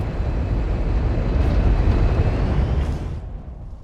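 A Valkyrie gunship from Warhammer 40K Space Marine roars past in a loud, deep, sustained engine rumble with a jet-like whoosh that fades out near the end.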